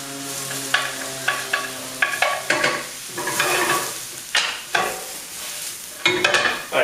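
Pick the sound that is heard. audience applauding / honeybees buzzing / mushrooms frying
mushrooms frying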